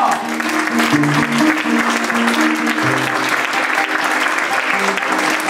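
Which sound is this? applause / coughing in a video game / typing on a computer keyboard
applause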